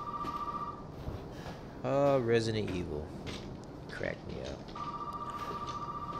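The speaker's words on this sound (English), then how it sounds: "And now the phone's ringing." A telephone rings inside the survival-horror game Resident Evil 7, a steady electronic trill heard clearly at the start and again at the end, with someone talking over the gap between rings.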